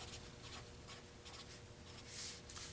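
Pencil writing on paper during a fourth-grade math lesson, faint soft scratches in a few brief irregular bursts over low background hiss, with no talking.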